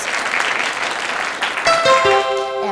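A high school quiz bowl audience applauds the officials, a steady clapping wash for over a second before a series of bright electronic tones rings out over the fading applause.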